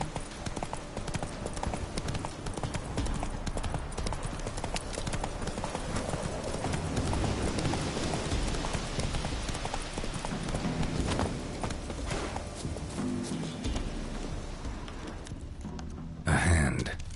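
A horse clip-clops steadily through The Witcher 3: Wild Hunt. The rhythmic hoofbeats are close and continuous, with voices over the top and a brief change in sound near the end.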